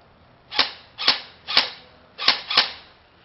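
Five sharp shots from an APS M4 CQB airsoft rifle crack one at a time at slightly irregular intervals, fairly close, with brief snappy decays.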